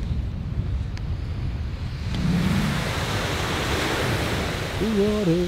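Ocean waves wash onto a beach in a steady, broad rush of surf, with wind buffeting the microphone throughout and a brief swell of water noise partway through.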